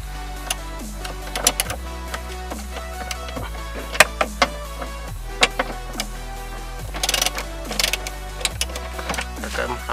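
Ratchet clicking in short bursts while loosening 10 mm bolts on the clutch pump of a 1991 Toyota Tercel, close and crisp with brief pauses between strokes.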